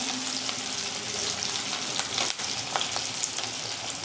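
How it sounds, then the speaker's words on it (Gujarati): Sliced onions frying in a pan for matar paneer, a steady close sizzle throughout with occasional stirring clicks and no speech. "ડુંગળીને સાતરી લઈશું."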